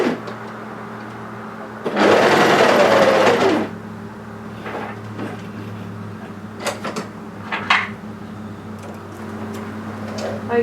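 A sewing machine runs a short test stitch on a roll-neck longline sweater seam: one steady, close burst of fast whirring lasting under two seconds, then quiet with scattered light clicks and fabric handling.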